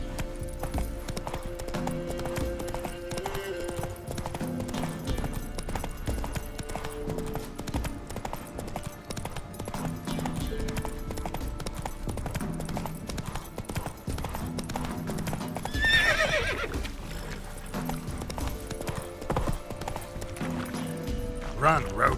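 Roach the horse from The Witcher 3: Wild Hunt gallops with steady clip-clop hoofbeats throughout, a short whinny rising near the end, all set against game music and ambience while a voice speaks over it.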